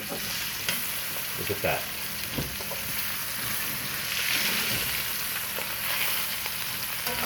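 A rib eye steak, just flipped, sizzles steadily in a hot iron pan: a loud, continuous hiss and crackle with a few soft knocks. A voice speaks briefly near the start.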